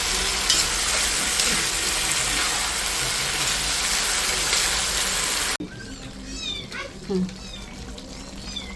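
Chicken curry fries in a pan with ginger, garlic, cumin and coriander paste, a loud close sizzle that cuts off abruptly, followed by quieter kitchen sounds with some voice and cat-like meows.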